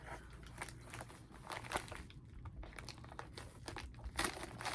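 Plastic packaging being handled while a bag of crochet granny squares is cut open crinkles and crackles continuously at close range, soft and irregular, with no one talking.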